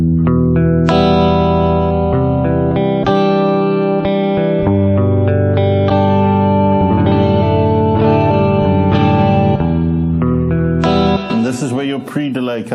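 An electric guitar plays a steady run of notes through reverb on a Boss GT-1000 pedal, loud and ringing with sustained tails, ending in a wavering, pitch-bending flourish.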